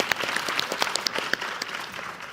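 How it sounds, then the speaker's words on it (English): Audience at a conference closing plenary applauds, a short burst of dense clapping with a few sharper nearby claps, fairly loud and without talk. "Applaud, applaud."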